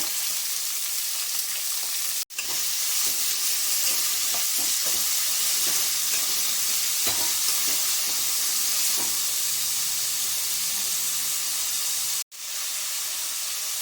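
Long-sliced onions with a pinch of salt fry in a pan with a loud, continuous sizzle and hiss, broken by two brief cutoffs, with faint stirring clicks and no voices.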